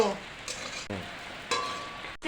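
Potatoes frying in a pan while being stirred, soft sizzling broken by a few scraping strokes of the spatula and a light clink of metal, close and fairly quiet.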